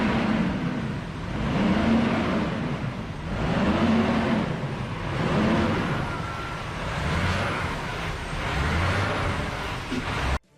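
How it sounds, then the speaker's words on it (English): A heavy truck rolls past on a rough, dangerous road, its deep engine rumble swelling and fading in repeated waves, loud and close throughout, then cutting off abruptly at the end. "Just sitting over here watching this truck pass is one way to enjoy your day."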